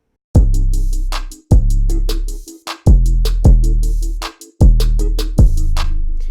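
A looping electronic beat with punchy low kicks and bright, layered hi-hat ticks repeating in a steady rhythm, loud and close.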